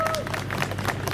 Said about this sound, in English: Give Thailand a big clap